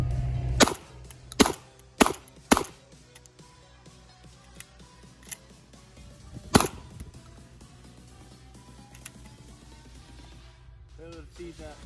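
Benelli M1014 shotgun firing Winchester shells, several sharp loud blasts spaced irregularly, with a final shot after a pause, over steady background and outdoor ambience.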